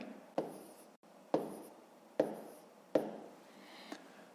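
Pen or marker on paper while working long division, with four distinct strokes starting sharply and trailing off into scratchy rubbing, close and quiet, no talking.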